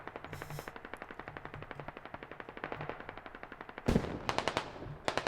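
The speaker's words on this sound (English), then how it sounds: "Hans Former, the sniper, he actually might attempt to snipe out the driver." Rapid automatic gunfire rattles steadily in the Squad video game during a competitive match, joined near the end by a louder, sharper burst of close shots with ringing decay.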